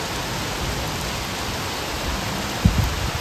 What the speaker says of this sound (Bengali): এই দেখো কিরকম বৃষ্টি আরম্ভ হয়েছে ব্যাঙ্গালোরে, ফাটাফাটি।